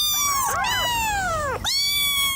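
A young kitten mews in a few high, clear cries, the second long and falling, close and loud with no voices around it.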